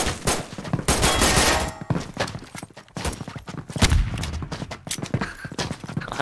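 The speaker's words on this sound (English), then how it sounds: "Oh no, there's a cannon!" Rapid, loud booming shots and crashing blasts from a game battle, dense and continuous with little pause between bursts.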